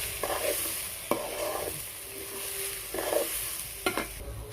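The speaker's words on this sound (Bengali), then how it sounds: "সব কিছু দিয়ে ভালো করে নেড়ে নিব।" Onion frying with garlic paste and salt sizzles steadily in a pan while a spoon scrapes and stirs it in several separate strokes, close and moderately loud, with no voices.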